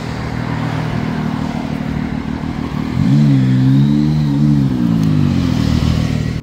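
A Zontes 703F three-cylinder motorcycle roars close by, its engine humming steadily before a sharp rise in revs partway through as it accelerates hard, then holding a loud, rising drone.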